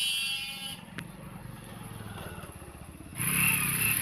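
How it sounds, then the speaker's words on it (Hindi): A motorbike ridden across open farm fields where there is no road, its engine running steadily nearby with a continuous rumble that swells louder near the end. "देखिए एक लड़का बाइक लेकर जा रहा है"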